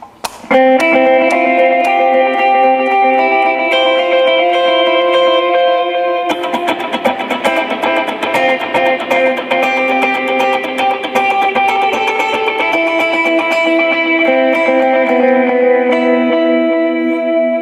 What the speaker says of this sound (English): dotted eighth, essentially the repeats will fall in between what you're playing